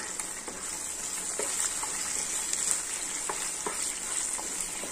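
Egg fried rice, with crushed pepper just added, is stirred in a hot pan under a continuous close sizzle broken by scattered light scrapes of the spoon against the pan.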